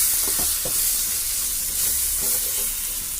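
Potato and tomato curry stirred in a pan, with a steady sizzling hiss throughout and a few soft scraping strokes near the start and middle, close and moderately loud with no talking.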